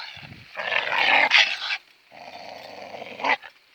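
A dog growls low and rumbling in two drawn-out bursts, close by, with a short pause between them.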